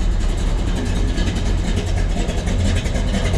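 A 1969 Chevrolet Chevelle SS rumbles out its exhaust at idle, a deep steady throbbing pulse heard close and loud with no talking.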